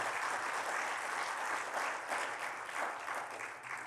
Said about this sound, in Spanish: Dele un aplauso a nuestro rey.